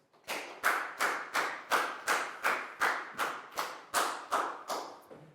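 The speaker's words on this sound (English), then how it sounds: "High five and a big round of applause for Prau, please, guys." Pupils in a Year 4 maths classroom clap in unison: about eleven sharp, evenly spaced claps in a steady rhythm, loud and close, with no talking.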